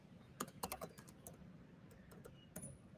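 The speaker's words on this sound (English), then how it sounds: "I'm just typing these things up on the screen" Typing on a computer keyboard in a quiet room, quick clusters of close, crisp keystrokes with short pauses between bursts.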